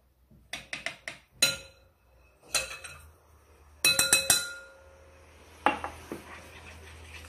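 A metal utensil clinks repeatedly against a bowl while stirring a flour batter with milk, coming in irregular clusters of sharp taps with short pauses between them.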